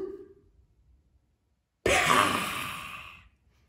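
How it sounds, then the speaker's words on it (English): A single big breath taken in after a short pause, loud, close and breathy, swelling then fading over about a second and a half, with no talk. "Let's take in a big breath."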